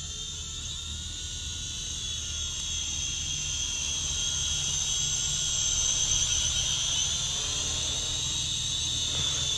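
A Snaptain A15h drone hovering and flying nearby, its small rotors giving a steady high-pitched whine that holds throughout at moderate level, with no one speaking.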